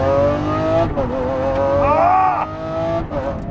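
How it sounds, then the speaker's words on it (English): A 2020 Lamborghini SVJ engine revving hard while driving, loud and close, with rising and falling pitch sweeps and a sharp climbing rev near the middle. "I am driving a 2020 Lamborghini SVJ"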